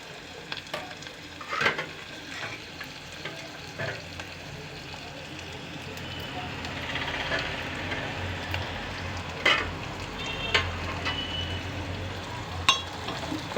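Large-cut onion pieces frying lightly in a pan make a steady close sizzle, with stirring scrapes and a few sharp knocks and no talking.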